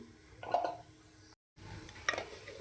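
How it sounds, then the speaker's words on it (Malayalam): Spice masala of coriander powder, garam masala, pepper and chili powder being stirred and fried for beef fry, quiet scraping strokes with a soft sizzle, two clusters of stirring separated by a short gap. "ഇതൊന്ന് ഇളക്കി നമുക്ക് മസാലയൊക്കെ ഒന്ന് മൂപ്പിച്ചെടുക്കാം"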